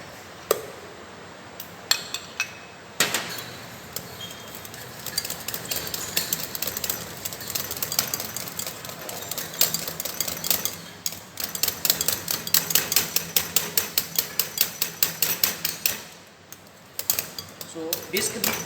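Mango paste, fresh cream and milk whisked together for mango kulfi, a steady run of rapid metallic clinks of a whisk against a bowl, close and moderately loud, quickening into a dense rhythmic beat near the end.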